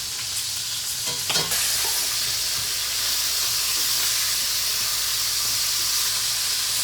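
Chicken thighs fry hard in a very hot pan, giving a loud, constant hiss with spattering crackles and a brief clatter early on, no voices.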